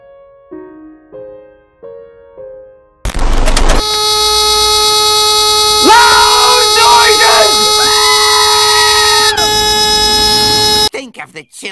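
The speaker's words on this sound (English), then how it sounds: "I've never been someone who's bothered that much with the sound the door buzzer makes" Mazda Miata door buzzer, a loud sustained electronic tone that holds for several seconds with a warbling voice-like wail over it, following quieter musical notes and ending abruptly.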